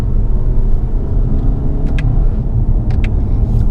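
A 2018 Toyota Camry XSE drives and corners on a bumpy road, with loud, close low road and engine rumble inside the cabin and a few brief rattling knocks from bumps.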